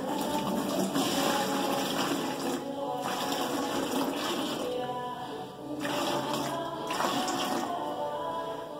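Water runs steadily from a tap into a container to mix gypsum plaster, a continuous splashing rush lasting several seconds with slight changes in flow, heard close up with no talking.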